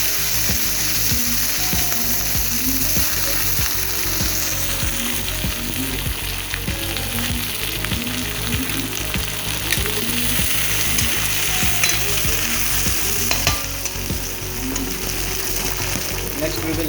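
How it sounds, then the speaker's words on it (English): Capsicum and other vegetables frying in hot oil with a bay leaf, a dense steady sizzle with rapid crackling, loud and continuous throughout without pause. "We will add the vegetables into the oil now."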